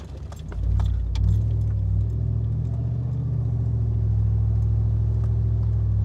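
A Chevy SSR convertible truck's engine rumbles steadily and close, with a deep low drone that swells in the first second and then holds even as the truck drives, with faint jingling on top.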